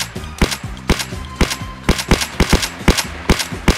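Loud, regular shots from in-game gunfire crack out in quick succession, single rounds mixed with short bursts in a steady rhythm, and no one speaks.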